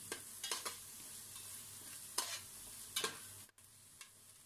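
Onions frying with ginger garlic paste in a pan for an egg korma, a soft steady sizzle broken by several sharp stirring scrapes, faint and close with no talking.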